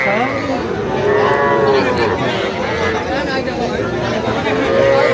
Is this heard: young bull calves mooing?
yes